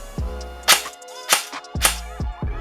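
A Krytac Trident MK2 SPR-M airsoft rifle fires several crisp, sharp shots in an irregular sequence, close and clear with short gaps and no talking.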